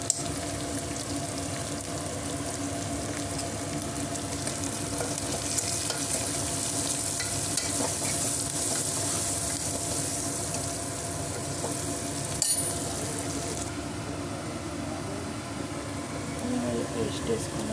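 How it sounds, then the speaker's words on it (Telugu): Curry paste with turmeric frying and being stirred in a pan for a capsicum curry, a steady close sizzle with scraping stir sounds throughout and a brief knock partway. "పేస్ట్ వేసుకున్నాము. పచ్చి వాసన పోయేదాకా కలుపుకుందామండి."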